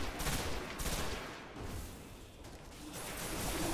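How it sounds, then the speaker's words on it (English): Rapid pulse rifle bursts in the Destiny shooter game, a dense continuous crackle of gunfire with whooshing effects that stays loud throughout with no pauses. "Back to the pulse rifle."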